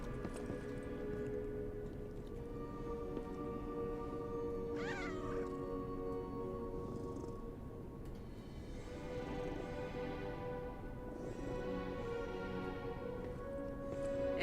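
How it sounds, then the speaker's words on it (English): A cat in the video game Lies of P gives a long series of drawn-out, wavering meows and yowls, close and repeated, over a steady background of game ambience. "It is tradition to pet the cat."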